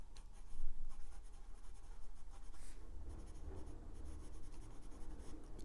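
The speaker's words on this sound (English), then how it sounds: "I like writing with the Platinum Curidas." Platinum Curidas fountain pen, extra fine nib, writing reversed on paper: a continuous soft scratchy scrape with small stroke-by-stroke pulses, close and fairly quiet, with no speech.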